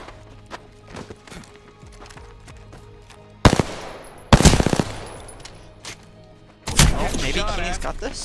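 Video game gunfire comes in loud, sharp bursts of rapid shots, separated by quieter stretches with scattered small clicks and thuds.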